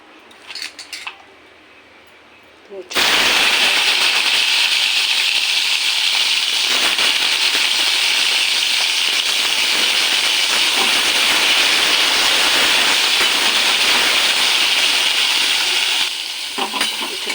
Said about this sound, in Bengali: এখানে ফোড়নের জন্য নিয়ে নিয়েছি পাঁচ ফোড়ন রাঁধুনি তেজপাতা শুকনো লঙ্কা আর এই আদা বাটা সব এগুলো ফোড়ন দেবো